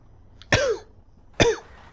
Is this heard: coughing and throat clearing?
yes